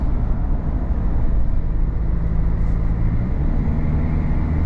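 A Peugeot Landtrek 4x4 pickup truck cruises on the highway at normal speed, heard as a steady low rumble of road and engine noise from inside the cabin, unbroken and fairly loud.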